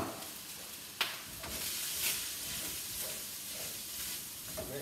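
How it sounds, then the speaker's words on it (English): Rice sizzling and hissing in a hot wok on high heat, a steady broadband frying crackle with occasional sharper spits and stirring clatter, close and continuous with no talk. "So we now want to fry our rice."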